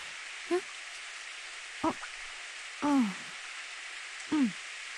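Steady rain hisses throughout a scene in the visual novel game Steins;Gate, broken by four short voiced sounds that rise and fall.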